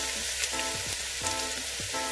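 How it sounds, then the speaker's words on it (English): Cinnamon sticks, cloves and onion sizzling steadily in hot oil, a loud continuous frying hiss with faint stirring, no voices. "Once the oil is heated, add the cinnamon sticks and the cloves to roast."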